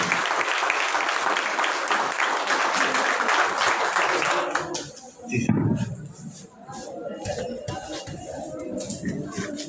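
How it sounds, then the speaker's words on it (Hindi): Loud applause from an audience at a university Hindi department prize ceremony, honouring the second-place winner of a poetry recitation contest; dense clapping fills the first half, then thins out as voices take over. "एक बार जोरदार ताली दिलखुश दिब्यू के लिए।"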